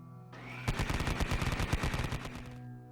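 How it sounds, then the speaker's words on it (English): Heavy machine gun fire from a three-man support squad in a Grimdark Future tabletop battle: a sustained, loud burst of rapid shots in even rhythm, lasting about two seconds with no talk over it. "My 3-man support squad with their heavy machine guns are going to fire at the 20-man unit of recruits."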